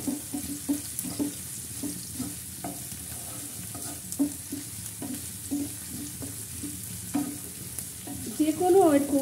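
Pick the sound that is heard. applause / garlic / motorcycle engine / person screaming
garlic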